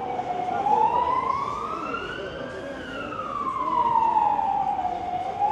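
A police or ambulance siren wails on a street in Valletta, its pitch sweeping slowly up and down in long rising and falling cycles at moderate distance over steady traffic hum.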